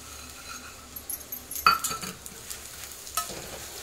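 Jaggery cooking in ghee into syrup for peanut chikki is stirred in a pan: a gentle sizzle underneath, with scraping strokes and light clinks of the spoon against the vessel, close and fairly quiet.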